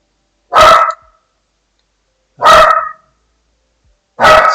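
A human voice imitates a dog barking, giving three loud, close, evenly spaced woofs separated by silence.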